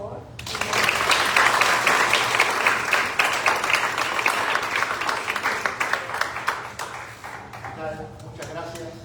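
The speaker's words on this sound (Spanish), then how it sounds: "un aplauso por favor" A room of people claps loudly at a book presentation at Creation Art Center, applause swelling quickly and then thinning into scattered claps, with a voice and some tones heard near the end.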